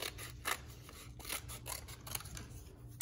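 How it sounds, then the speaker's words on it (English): Scissors snip through folded craft pieces for a Ming vase paper craft, a quick run of faint, close cutting strokes with no talk. "Then you can cut along this line while it's folded so that you create two identical pieces. So I'm gonna go ahead and cut those out."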